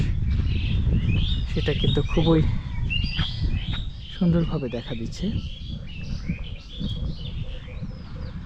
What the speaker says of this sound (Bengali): খুবই সুন্দর পাখির ডাক